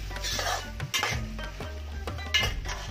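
A spoon stirs boiled chickpeas in a metal pan for masala sundal, scraping and clinking against the pan in quick, close strokes with a faint sizzle underneath and no talking.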